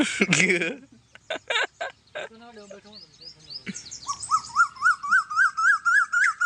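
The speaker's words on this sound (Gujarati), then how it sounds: "કોયલ અત્યારે બોલી" A short burst of voices opens, then an Asian koel calls in a steady series of rising notes, each climbing higher, clear and fairly near.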